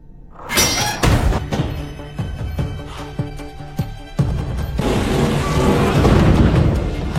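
A powerful explosion in a dramatized action film bursts out loud and broadband, followed by a run of heavy thuds and crashing debris, then a sustained roaring rumble, like a blast and collapse, with no voices.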